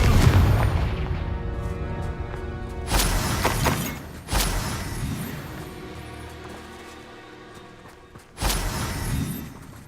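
Spell blasts in Hogwarts Legacy go off with sharp booming, shattering bursts, three or four loud impacts spaced a few seconds apart with rumbling decay between them.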